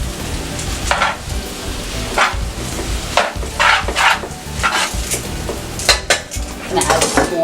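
A stir fry being tossed and scraped in a hot pan, with repeated metallic clanks of a utensil against the pan over a low sizzle, irregular and close.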